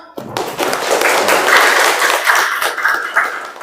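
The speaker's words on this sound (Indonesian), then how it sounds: "Tepuk tangan semua" A classroom of people applauds together, a steady patter of many hands clapping at close range that swells quickly and holds for several seconds without talk.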